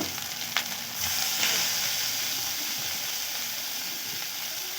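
Chopped tomatoes frying with turmeric powder in a pan for an onion curry, a steady close sizzle with a brief stirring clatter near the start, no voices.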